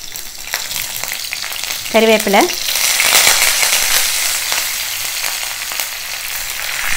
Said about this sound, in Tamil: தகுந்த எண்ணெய் விட்ட பிறகு கடுகு, உளுத்தம்பருப்பு, கடலைப்பருப்பு போட்டுக்கலாம்